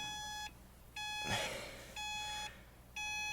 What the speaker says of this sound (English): Usually you're gonna get that beep, beep, beep 24/7 whenever your seatbelt's not on.